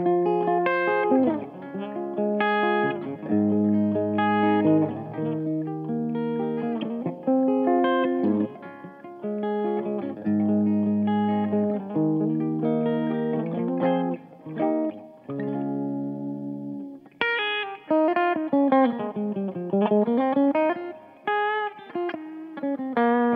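Electric guitar plays through a Blackstar ID Core Stereo 40 amp head on a clean warm setting with added reverb, with chords and melodic lines ringing out alone.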